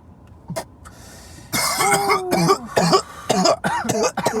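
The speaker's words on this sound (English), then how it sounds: "That one made me cough." A series of harsh coughs and throat-clearing bursts, repeated in quick succession, close to the listener, following a brief quieter sound.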